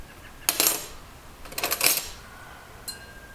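Metal spoons, a teaspoon and a dessert spoon, clink and rattle in two short bursts, with a faint final clink after a pause.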